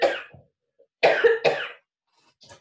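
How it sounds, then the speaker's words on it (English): Three harsh coughs in a row, the first alone, then two close together after a pause, close and fairly loud, followed by a faint rustle. "I'm going to cough one more time"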